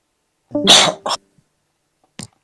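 One sharp, loud sneeze close by, with a short breathy tail, then a brief faint sound a second later in otherwise quiet surroundings.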